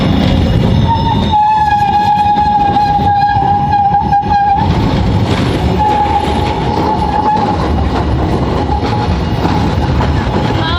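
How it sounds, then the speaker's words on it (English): Tram passing along a city street in Rotterdam, with a sustained tonal horn or squeal and loud rolling rail clatter filling the whole stretch; a voice briefly speaks in the background. "There's a tram coming, and also here."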